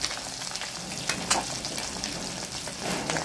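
Black cumin seeds crackle and sizzle in hot oil alongside pabda fish, a steady close frying hiss with small pops and faint stirring scrapes.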